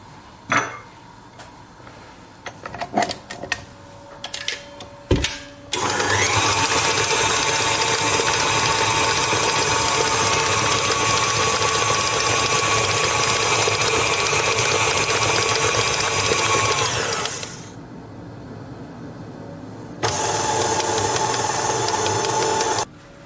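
An electric mixer beats churros batter, running as a steady loud whir for about twelve seconds after some clattering and handling, then stopping briefly before starting again.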